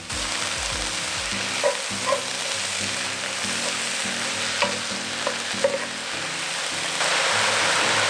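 Mushrooms frying in a pan for orzo over medium-high heat, a steady sizzle with occasional stirring scrapes and small pops, close and even throughout.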